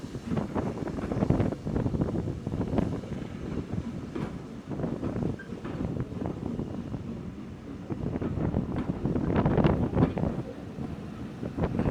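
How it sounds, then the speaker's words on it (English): Steady gusting wind roars across the microphone at Oxenhope station, broad and buffeting, with a low rumble underneath and no voices. "now the wind and the rain really starts"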